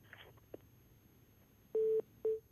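A telephone line after a call is cut off: a few faint clicks, then two short beeping tones in quick succession, heard alone with no voices.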